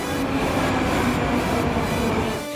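A Moscow underground metro train rumbles steadily, a dense continuous roar of wheels and carriage noise with faint wheel squeal, loud and close throughout with no talking.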